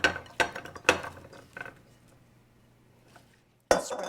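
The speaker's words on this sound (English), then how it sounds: "I'm going to put it in a pan." Spiced, coated root vegetables tipped into a roasting pan, a few clattering metal knocks and scrapes up front, then a quiet lull before another loud clank near the end.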